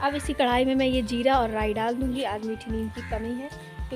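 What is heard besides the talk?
No distinct noise like a dog, phone or traffic.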